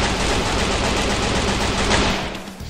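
Gunfire in the video game Free Fire: loud, sustained rapid shooting that blurs into a dense crackling roar for over two seconds, then tails off quickly.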